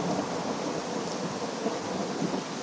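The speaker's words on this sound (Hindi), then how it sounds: "बारिश अब भी लगातार बरस रही थी।" Steady heavy rain pours over a village home, with a low rumble of thunder beneath the constant hiss of falling water throughout.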